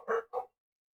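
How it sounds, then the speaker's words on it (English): A dog gives two quick barks, the second shorter, then silence. "Sorry about the barking, guys."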